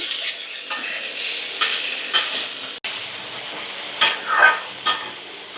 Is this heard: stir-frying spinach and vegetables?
yes